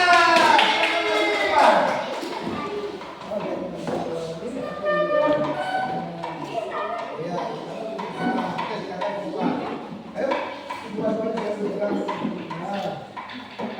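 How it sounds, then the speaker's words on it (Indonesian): A classroom of students claps for a group about to present, with loose, steady applause close by, mixed with voices chattering and calling out over it. "Tepuk tangan dulu untuk kelompok 3"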